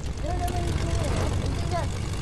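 A propeller plane in Fortnite drones loudly and steadily from close by, with voices faintly audible behind the engine.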